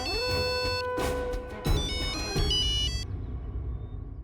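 A phone ringtone for an incoming call plays as a bright electronic melody of repeated tones. It is loud and close, continues for about three seconds and then stops, leaving quiet background hum.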